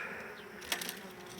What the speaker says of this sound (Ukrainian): Тут вже бджола виходить